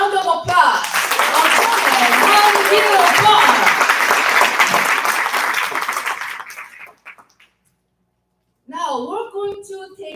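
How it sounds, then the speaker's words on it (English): Large audience at a direct selling association event bursts into a big round of applause, dense steady clapping for several seconds that fades to silence, followed by a brief voice. "let us give him a big round of applause."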